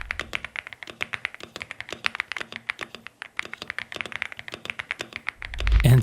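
A Razer mechanical keyboard being typed on gives rapid, crisp clacking keystrokes in an uneven rhythm, close and clear, ending with a brief thump.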